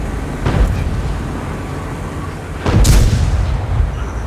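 Two heavy booming tank cannon shots in World of Tanks, one faint near the start and a louder, closer one midway, over steady engine rumble.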